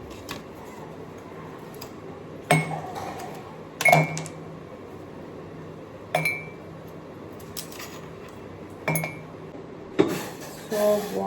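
Ice cubes clinking in a drinking glass in a home kitchen, a handful of bright, scattered clinks spaced a second or two apart over a low, steady background hiss.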